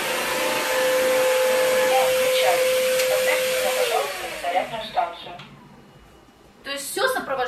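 An ILIFE W90 cordless upright wet vacuum cleaner runs loudly at higher power with a steady high whine, then its pitch drops as it winds down, followed by a person talking.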